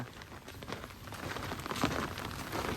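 Morning rain falls steadily in a village, producing a dense, even patter on surfaces at moderate loudness. It swells slightly toward the end, with no voices.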